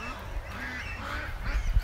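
Ducks honk and quack in a noisy group, close and fairly loud, with overlapping calls building toward the end.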